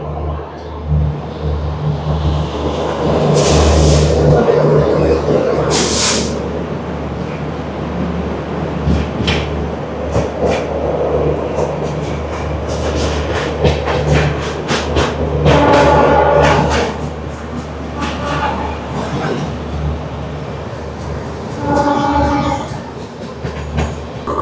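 Howrah–NJP Shatabdi Express (12041) running just after leaving Bardhaman Junction, heard from inside a coach: a loud, steady rumble with rhythmic clickety-clack of wheels over rail joints and occasional rattles and knocks.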